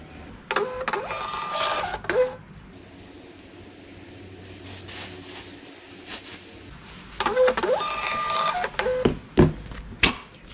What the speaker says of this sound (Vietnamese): Rồi bây giờ thì mình sẽ bấm in now nè.